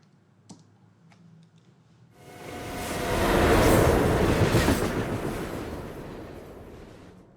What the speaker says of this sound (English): So clearly that's for that train passing by on the left